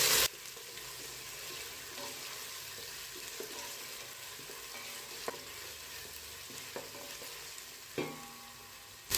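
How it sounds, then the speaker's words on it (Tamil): Ginger and garlic sautéing in hot oil for coconut milk rice, a steady close sizzle of frying with occasional stirring scrapes and clinks throughout, no talking. "இஞ்சி பூண்டோட பச்சை ஸ்மெல் போகிற வரைக்கும் எண்ணெயில் நல்லா வதக்கிடலாம்."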